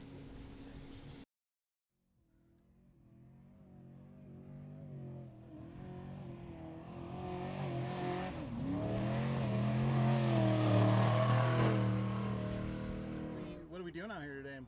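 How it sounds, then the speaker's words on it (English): A new off-road trophy truck being driven out in Barstow, its engine building from a low rumble into a loud, rising roar that swells and then eases, with a short silent gap near the start and no talk over it. "first day out with the new trophy truck"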